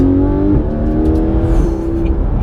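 A brand new Porsche 991 GT3 RS engine pulls up through the revs with a loud, close, rising whine, briefly dipping as it shifts before climbing again.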